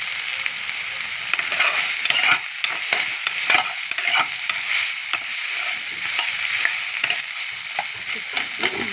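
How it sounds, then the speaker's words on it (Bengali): Neem leaves and brinjal frying in oil with steady sizzling and frequent scraping, clattering stirs, close and fairly loud with no talk. "নিম পাতাগুলোকে আগে তেল দিয়ে ভেজে নিলাম, খরা করে ভেজে আর বেগুনগুলো দিয়ে দিলাম।"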